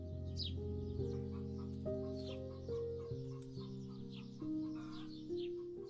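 Chickens and a rooster clucking softly among other birds in a calm home setting, a steady murmur of fowl calls over a sustained tonal musical bed.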